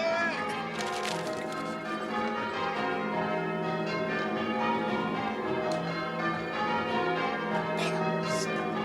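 Church bells ringing loudly and continuously, their overlapping tones forming a dense, sustained peal throughout.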